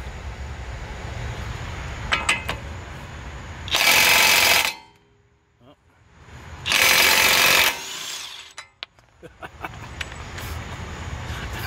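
A DeWalt DCF899 impact wrench fires two loud hammering bursts of about a second each on a car's axle nut, with clanks and shop noise between them.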